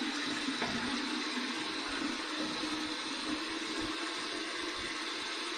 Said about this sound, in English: I'm going to go ahead and just rinse this under some warm water again.